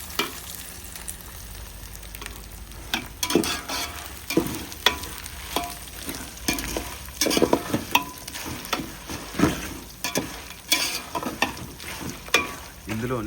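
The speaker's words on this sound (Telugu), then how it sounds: "పోపు ఐటమ్స్ వేసుకొని మంచిగా కలుపుకోండి" Tempering spices frying in hot oil for pulihora, a steady close sizzle broken by repeated scraping stirs of a spoon in the pan, with no talking.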